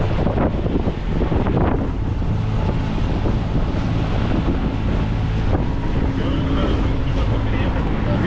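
Strong head-on wind roars and buffets the microphone aboard a sailboat near Ibiza, a loud, steady rush with water and hull noise beneath and faint muffled voices mixed in.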